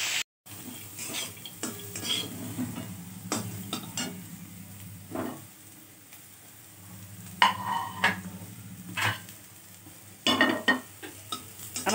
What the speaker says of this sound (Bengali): সবজিগুলো একটু লো ফ্লেমে ভাজবো যাতে এর মধ্যে সেদ্ধ হয়ে যায়।